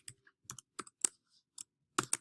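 Several separate bursts of key clicks from a computer keyboard while entering an Excel formula, crisp and close, in short uneven clusters with pauses between them.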